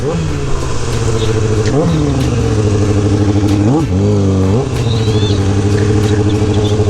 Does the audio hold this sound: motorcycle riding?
yes